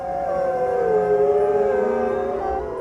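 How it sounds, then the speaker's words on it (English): Arctic wolves howling across open treeless tundra, several long wavering howls overlapping and rising and falling in pitch, steady and moderately distant with no talk. "howls can travel more than 15 kilometers, a long-distance call to brothers and sisters"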